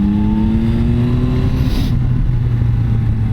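A Yamaha Tracer 9 motorcycle engine pulls hard under acceleration, its rising tone loud and close over steady wind rush throughout.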